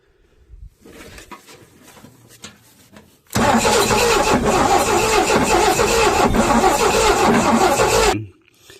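A 1969 Chevrolet C10 engine, left sitting 23 years, cranks loudly and steadily for several seconds without firing, after a few faint clunks, then stops abruptly.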